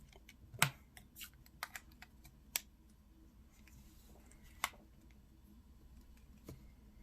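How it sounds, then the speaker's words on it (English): Battery being fitted into a Motorola W385 phone, heard as a few sharp plastic clicks and snaps spread out over a quiet background. "Go and put the battery in it."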